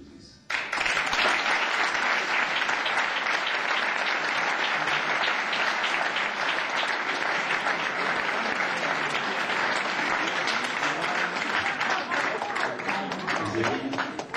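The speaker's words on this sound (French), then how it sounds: "je voudrais bien qu'on tous l'applaudisse" An audience breaks into loud, sustained applause at a French-language event, dense clapping starting abruptly and holding steady at full strength for about fourteen seconds.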